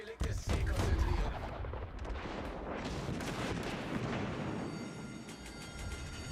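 Heavy naval guns in World of Warships boom out in a loud opening salvo, followed by a long rumbling roar that slowly fades, with a brief voice heard over it.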